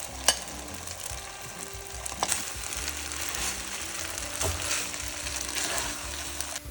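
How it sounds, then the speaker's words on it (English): Bok choy greens hit a hot pan for vegetarian pad Thai, giving a close, steady sizzle with occasional sharper pops and scraping stirs. No voices are heard over the frying. "Now I'm gonna add my bok choy,"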